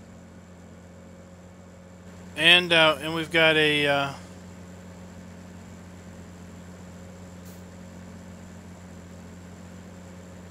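Tractor engine idling in Farming Simulator 17, with steady low droning hum and constant tonal rumble throughout, someone briefly talking over it near the start.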